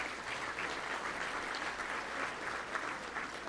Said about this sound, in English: I'll give him a round of applause right there.